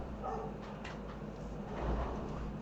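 An old dog barks faintly and intermittently in the background of a quiet room at a coin auction. The barks are soft and far off.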